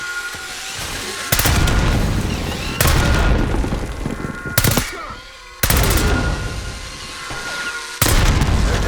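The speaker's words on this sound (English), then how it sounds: "Grenade incoming!" Grenade explosion and heavy gunfire in the shooter Call of Duty: Black Ops 6, with loud, booming bursts repeating roughly every one and a half seconds, each blast dense and rumbling, close and dominating.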